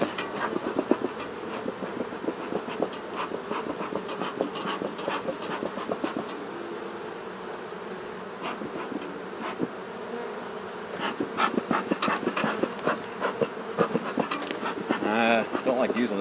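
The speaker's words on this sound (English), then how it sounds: "there's so many bees in the way" Honeybees buzzing around an open hive box during beekeeping work with smoke in use, a close dense drone of many bees with scattered bursts and occasional knocks of equipment, and a voice speaking intermittently.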